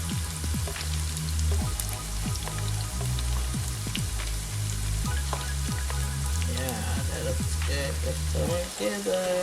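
Garlic and onions fry in a pot as the base for a curry lamb stew, a steady loud sizzle and crackle throughout, with occasional stirring scrapes.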